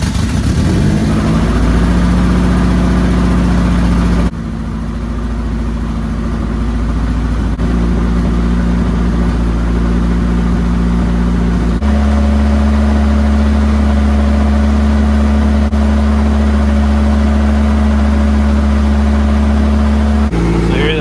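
A turbocharged B20 car engine cranks, catches and settles into a loud, close, rumbling idle, shifting in pitch and steadiness a few times as it runs, with no talk.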